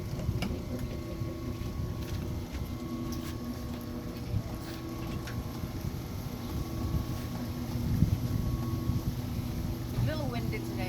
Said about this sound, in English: A little windy today